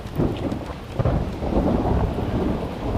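Thunder rumbling over heavy rain on a stormy night, a dense, continuous wash of rainfall with low booming rolls throughout, no voices.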